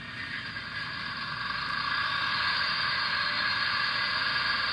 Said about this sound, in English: And now you can hear that secondary HEP pup generator.